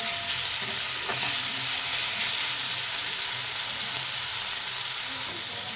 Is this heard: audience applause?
no